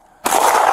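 A police officer's gunfire at an armed vehicle theft suspect erupts suddenly after a brief hush, a loud close blast whose harsh roar rings on without pause, recorded on a body camera.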